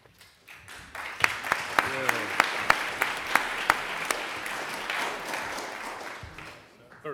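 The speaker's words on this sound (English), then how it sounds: "Very good idea to clap now rather than afterwards" Audience clapping at a wellbeing lecture session, a steady round of applause with sharp individual claps standing out, swelling for several seconds and then fading.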